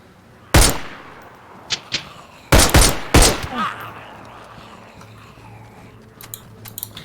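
Loud gunshots ring out in a DayZ survival match, a sharp single shot followed after a pause by a tight cluster of three heavy blasts, then a few faint distant pops over a low ambient hum.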